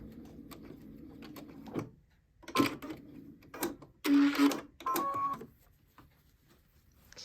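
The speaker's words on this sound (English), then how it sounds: "At the front, sew to the end, and then back stitch a few more stitches." A sewing machine stitches a cloth napkin with mitered corners, running in several short whirring bursts with quiet pauses between them, including a brief back-and-forth of back stitches.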